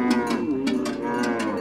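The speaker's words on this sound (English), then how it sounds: "the cows behind him leave the cattle camp to go grazing for the day" Cattle low repeatedly as the herd leaves a cattle camp in South Sudan to go grazing, several overlapping moos that are loud and close, with no talking.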